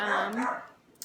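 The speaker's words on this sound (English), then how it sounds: "Excuse my dog." A pet dog gives a single short bark or yip indoors in a home kitchen, close and fairly loud, fading quickly.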